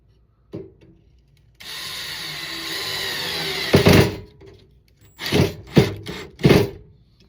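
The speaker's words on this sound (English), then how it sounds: "Now, I'm gonna run one in without pre-drilling it and see what happens there" A screw is driven into wood without a pilot hole: after a short knock, a power driver whirs steadily for about two seconds, then grinds in several loud, rough bursts as the screw bites.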